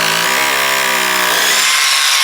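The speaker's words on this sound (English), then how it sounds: "Drill the 3 marks that you made with your Marksman." A power drill bores into a brick wall to make plug holes for an outside tap, a loud, close, continuous whine with its pitch climbing as it spins up, then cutting off abruptly.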